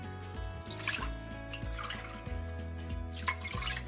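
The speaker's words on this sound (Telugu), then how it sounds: "ఇప్పుడు మనం వాటర్ అయితే పోసేసుకుందాం 1:4." Water poured into a pot for cooking jowar rice, a close gurgling, splashing stream with recurring bursts and a resonant pot tone underneath.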